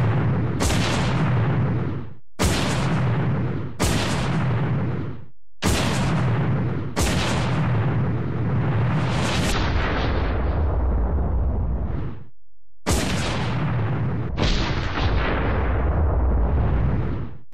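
A heavy weapon fires in Resident Evil Zero HD Remaster, six or seven loud booming blasts at uneven intervals, each with a long rumbling decay, very close and without talk.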